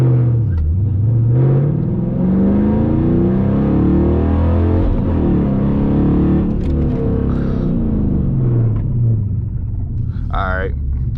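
Six-speed Dodge Challenger R/T launching from a standstill in second gear and accelerating hard toward 60 mph, the engine's deep roar rising in pitch with gear changes, loud and steady from inside the cabin.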